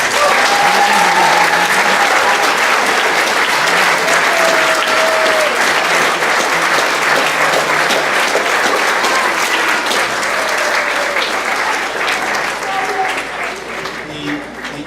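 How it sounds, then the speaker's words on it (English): A large audience at an 8th grade graduation ceremony claps loudly and steadily for two helpers, with dense, sustained applause that tapers slightly near the end; faint voices and whistles come through beneath the clapping. "we're going to start with a huge round of applause for these two"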